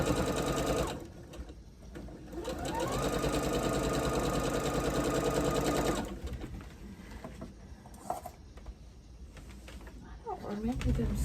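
A home sewing machine stitching quilt fabric for floral state blocks, running in long steady whirring bursts that stop and restart, close and loud, with birds cooing faintly in the background.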